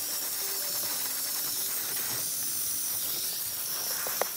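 A steady, loud hiss of steam from a steam cleaner sprays continuously, released outside a vehicle before interior cleaning, ending with a brief click.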